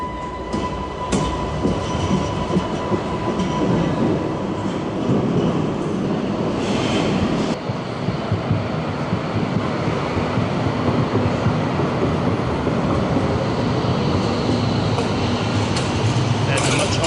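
An older tram passes on a street in Essen, giving a continuous rolling rumble with metallic clatter and brief wheel squeal, fairly close and loud throughout.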